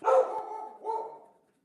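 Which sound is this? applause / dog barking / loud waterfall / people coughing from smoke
dog barking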